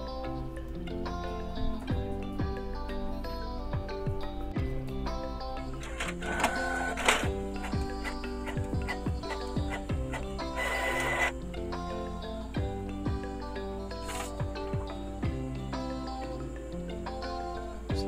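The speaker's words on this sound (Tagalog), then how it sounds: "I-try natin na i-print to guys." A Canon inkjet printer with a faulty black ink cartridge printing a page, a continuous mechanical whir with repeated ticks, clicks and the print head shuttling back and forth, heard alone for a long stretch.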